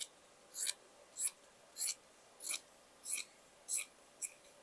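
Scissors snipping fabric for a loose plus-size dress, seven crisp regular cuts spaced about half a second apart, close and clear against a quiet room.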